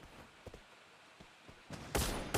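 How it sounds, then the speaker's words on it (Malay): Gunfire bursts in a Free Fire battle royale match: a few faint shots early, then a louder, dense fusillade near the end, with no speech over it. "tu dia tembakan dilakukan"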